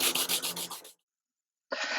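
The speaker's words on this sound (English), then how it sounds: "I'm going to start sanding for real" Wooden cutting board, a Texas flag design, being sanded up close: a dense, loud rasping burst for about a second, a short silence, then the abrasive rubbing starts again.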